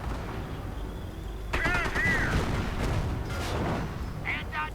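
Artillery and gunfire rumble and crack through a WWII strategy game battle, with repeated booms and rattling shots close by under steady commentary.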